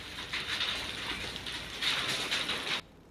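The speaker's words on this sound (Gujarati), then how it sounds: "દાહોદ જિલ્લાના ગ્રામ્ય વિસ્તારોમાં ગાજવીજ સાથે કમોસમી વરસાદ પડ્યો હતો" Steady, dense hiss of unseasonal rain falling over rural villages in Dahod district, continuous and fairly close, with no clear thunder, before it cuts off abruptly near the end.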